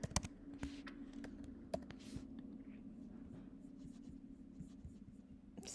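Quiet, sparse keystrokes on a computer keyboard while filling out a travel form online, with scattered clicks over a steady low hum and no talking.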